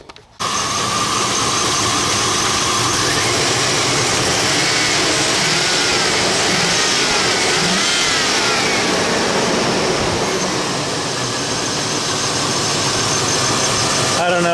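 A Chevrolet pickup truck engine with a rough-running fault and freshly changed spark plugs runs steadily and loud throughout, a dense continuous rumble close by with no pauses.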